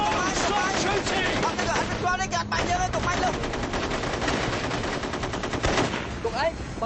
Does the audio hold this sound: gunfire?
yes